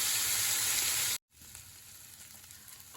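Onions frying in a pan give a loud, dense sizzle up close that cuts out abruptly, then a much quieter crackle continues afterward.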